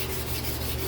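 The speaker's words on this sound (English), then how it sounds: "we're gonna go on ahead and start our hand sanding process." A Damascus hunter knife blade is hand sanded in one brief, close, rough rasping stroke.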